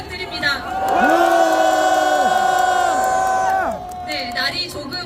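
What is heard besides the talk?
rally crowd applauding and cheering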